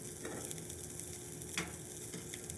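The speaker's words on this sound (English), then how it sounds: "You want to get a nice sear on them." Salmon fillets sear in a hot oiled pan with a steady, close sizzle and faint crackling pops, and no one speaks.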